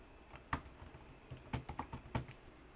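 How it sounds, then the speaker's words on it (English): Quiet, close keystrokes on a computer keyboard, a short burst of about a dozen irregular clicks with brief pauses, no voices. "Now type here"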